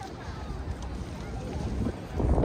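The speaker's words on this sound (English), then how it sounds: "It is very windy" Steady low rumbling buffeting of wind against a microphone outdoors in Washington DC, loud and continuous, swelling stronger near the end, with no talk.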